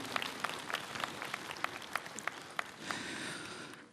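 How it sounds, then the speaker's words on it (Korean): Applause for a monk, chair of the Central Council, at a national monks' rally for Korean Buddhist autonomy: sparse, distant clapping with a few sharper individual claps standing out, swelling slightly near the end, fairly faint overall. "중앙종회의장 정문 스님께 다시 한번 큰 박수 보내주시기 바랍니다"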